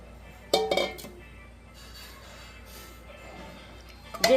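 A spoon clinks and scrapes against a kadai as ingredients for Kolkata-style meat biryani are stirred in hot oil and ghee, in short close bursts separated by quieter stretches.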